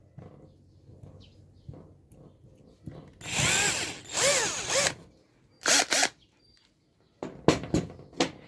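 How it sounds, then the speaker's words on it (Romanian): An electric drill bores a hole while making a cave for ancistrus catfish, likely into a coconut shell, sounding in three loud bursts: a long whining run, then two short whirs, and finally several quick stop-start bursts, with no talk over it. "luăm bormașina și dăm o gaură"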